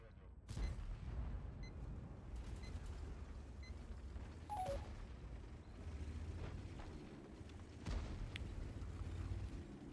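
Tank cannon shots in World of Tanks, a heavy game boom near the start followed by further muffled impacts and rumbling battle noise throughout, with steady low engine drone underneath.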